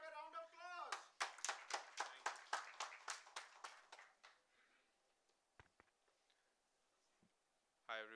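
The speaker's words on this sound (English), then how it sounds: "Let's have a round of applause." Applause for a platinum sponsor at a startup and small-business forum event: about a dozen sharp, distinct claps ring out in quick succession, then fade into a quiet room with a few scattered taps before a voice begins to speak.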